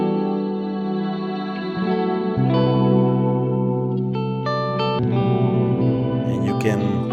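Sustained tones smeared by heavy reverb and echoing delay from a plugin, with layered notes shifting in pitch and washing into one another over a dense effected texture.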